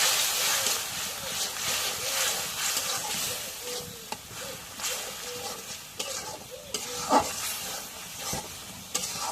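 A spatula stirs garlic, cumin and ginger paste with garam masala as it fries in a pan, giving a steady close sizzle broken by scraping strokes and a few sharper knocks.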